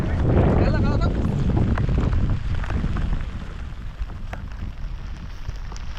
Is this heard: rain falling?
yes